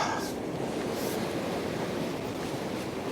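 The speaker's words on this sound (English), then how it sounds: "trying to keep it up out the way of these waves." Sea waves washing over a rocky shore at Craster on the Northumberland coast, a steady broadband roar of surf with gusts of wind, continuous and fairly close throughout.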